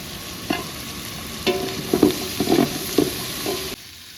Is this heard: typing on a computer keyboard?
no